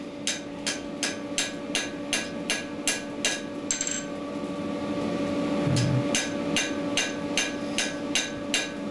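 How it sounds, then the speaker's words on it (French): A blacksmith forging a knife strikes hot iron with small, precise hammer blows, a fast even rhythm of sharp ringing taps that pauses briefly midway, then resumes, over a steady workshop hum. "des petits coups de marteau, mais avec précision"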